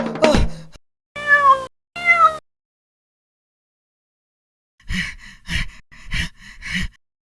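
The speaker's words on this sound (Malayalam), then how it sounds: "ആ ചാക്കിൽ പൂച്ചയായിരുന്നു." Two clear drawn-out cartoon cat meows follow a short sound at the start, then after a pause comes a run of quick gasping breaths.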